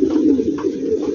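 Pigeons cooing steadily inside a cage, a close, continuous run of low throaty coos with no talk over them.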